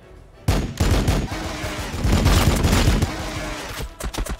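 Sustained gunfire erupts suddenly in Warhammer 40,000: Battlesector as Blood Angels units fire on gargoyles, loud rapid volleys of overlapping shots rolling on for several seconds before breaking into scattered bursts.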